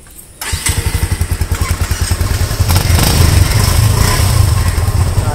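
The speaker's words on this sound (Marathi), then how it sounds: "बाईक कोल्ड स्टार्ट करतोय." A motorcycle cold-starts in the monsoon after a short silence, then settles into a loud, close, steadily pulsing idle that rises slightly and keeps running alone.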